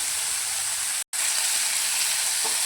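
Coriander leaves frying in a pan for a pea and chickpea curry gravy, a steady loud sizzle that runs throughout with one brief dropout partway.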